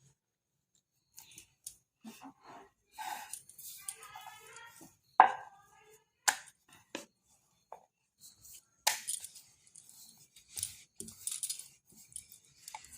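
Peas kachori dough being rolled out with a rolling pin on a board: scattered, irregular light wooden taps, knocks and clicks, close and fairly quiet, with no talking.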